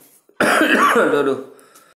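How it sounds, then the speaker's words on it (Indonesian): A single harsh, close cough bursts out sharply and trails off over about a second, with no talk around it. "saya batuk parah nih"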